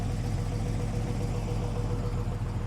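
A 1967 Ford Mustang convertible's six-cylinder idles with a possible slight exhaust leak, a steady low rumble heard up close and fairly quiet, with a faint whirring tone riding on it.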